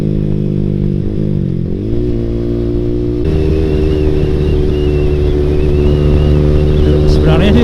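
A motorcycle fitted with a 3tech Ronin Hanzo aftermarket exhaust rumbles loudly close by, its engine note rising and growing harsher partway through as it revs, with light speech underneath.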